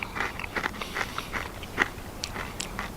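Crunchy pork cracklings bitten and chewed outdoors on an Appalachian farm: a run of close, crisp crunching bites in an uneven rhythm, alone with no talking.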